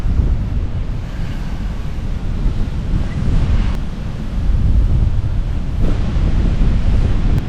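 White River Falls in Oregon pours with a steady, heavy rushing roar, broadband water noise filling the scene continuously with a little wind buffeting, near and loud with no voices.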